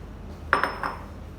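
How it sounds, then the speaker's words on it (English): Frozen falsa berries drop into a blender jar, three quick hard clinks in close succession, near and fairly quiet against a still background. "So first I'm putting my frozen falsa into this."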